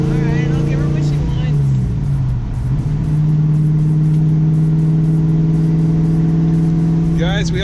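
A car with a T56 six-speed manual gearbox pulls in second gear after a shift, its engine droning steadily and loudly from close by, with a brief dip in pitch early on before settling into a strong, even hum.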